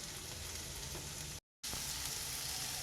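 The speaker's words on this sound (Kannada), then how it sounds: "ಇಲ್ಲಿ ತೊಂಡೆಕಾಯಿ ಚೆನ್ನಾಗಿ ಎಣ್ಣೆಯಲ್ಲಿ ಫ್ರೈ ಆಗಿದೆ" Ivy gourd (tondekayi) frying in oil hisses with a steady, dense sizzle, broken by one brief silent gap; no talking.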